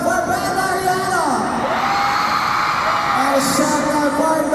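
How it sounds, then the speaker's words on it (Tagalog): Loud, sustained shouting and whooping from a packed mall-tour audience at a fan event, with yells swelling and dipping in long waves throughout. "Pabilig naman ako ng hiyawan for Brenda Ariano!"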